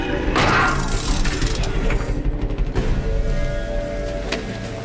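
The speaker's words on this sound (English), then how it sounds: "we can go and override this Broadhead to gain control of it" A Broadhead machine is overridden in Horizon Zero Dawn, giving a burst of close mechanical whirring, clicking and ratcheting with sharp metallic cracks, plus a brief electronic sweep, loudest at the start and then fading.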